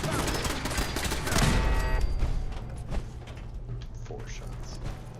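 Gunfire in a video game: a dense, loud burst of rapid shots that peaks early, then settles into a steady rumble of shooting and mechanical clatter.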